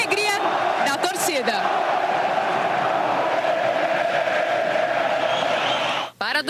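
Football supporters in a Brazilian league stadium roar in a dense, sustained crowd din, with a few louder whoops and shouts early on and a brief dip near the end.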